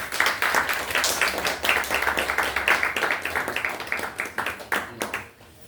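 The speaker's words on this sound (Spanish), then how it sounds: "un fuerte aplauso" An audience claps in a dense, steady burst of applause that gradually thins out and fades toward the end, with no voices over it.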